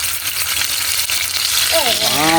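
Fish fries in a pan with a constant bright hiss and crackle of hot oil, and a voice briefly speaks over the sizzle near the end.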